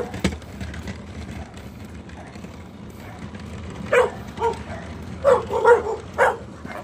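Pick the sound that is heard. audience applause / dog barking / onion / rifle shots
dog barking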